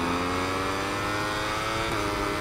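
A Ducati superbike in the SBK22 racing game accelerates hard, its engine howling steadily with rising harmonics throughout, loud and continuous with no talk over it.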